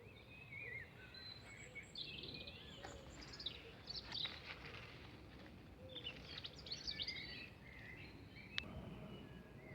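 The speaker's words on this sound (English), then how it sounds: "The birds are in fine song." Birds sing in a backyard garden with fruit trees, several faint chirps and warbling phrases overlapping at a distance over a quiet outdoor hiss.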